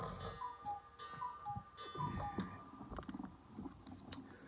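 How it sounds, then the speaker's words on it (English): A cuckoo clock ticks steadily with repeated light tocks, and a few short tonal chirps and clicks sound at a moderate distance over a soft room background. "Let my cuckoo clock go off."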